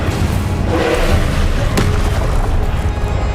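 A fire spell blast in the Hogwarts Legacy video game, a loud booming burst with one sharp crack near the middle over a dense rumbling background.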